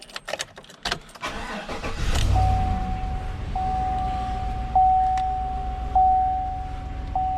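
A 2016 Chevy Silverado Z71 with the 5.3 V8, just fitted with new spark plugs and plug wires after a misfire code, cranks over and fires up, then settles into a steady idle with a faint warning chime repeating in the cab.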